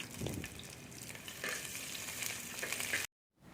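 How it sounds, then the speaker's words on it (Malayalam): Garlic and slit green chillies frying in oil for a dal-spinach curry, a steady close sizzle with stirring scrapes, cutting to silence near the end. "ഇനി വെളുത്തുള്ളി നന്നായിട്ട് മൂത്ത് വരട്ടെ"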